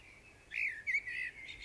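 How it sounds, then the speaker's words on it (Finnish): A common blackbird sings a short phrase of three or four clear, fluting notes close by. The phrase stands alone against quiet background noise. "Se oli rastas, mutta kylläkin musta rastas."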